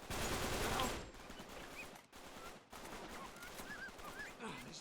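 Sniper and enemy gunfire in the video game Uncharted 3. Rapid, noisy bursts of shots play back to back at low volume, with short gaps between volleys.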